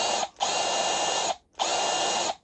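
A Milwaukee M12 SDS drill in drill mode whirs loudly in two long bursts, spinning down briefly in between, close by with no voices.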